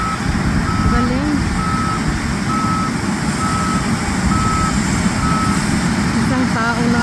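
A farm truck backs up during harvest on a Canadian farm, its reversing alarm beeping loudly at a steady pace of about one beep per second over a low engine rumble, with voices briefly audible near the end.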